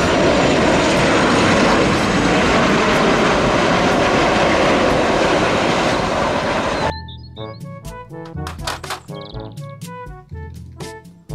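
An airplane flies overhead with a loud, continuous propeller and engine roar for about seven seconds. The roar then cuts off and gives way to sparse, separate tones.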